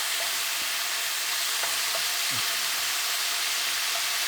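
Beef sears in a hot wok over a high flame, giving a dense, constant sizzling hiss with a few faint clinks of stirring and no voices.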